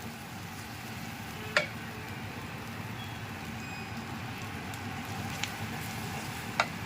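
Masala paste fries in oil for mutton sukka with a soft, continuous low sizzle, and a few sharp spatula clicks stand out over it at scattered moments.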